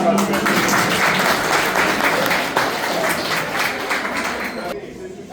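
Applause from an audience at a retirement send-off for a nurse, dense sustained clapping for several seconds that thins out and stops abruptly near the end, with voices mixed in.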